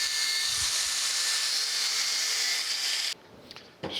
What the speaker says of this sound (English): I'm going to start here by just taking a wire wheel and cleaning this up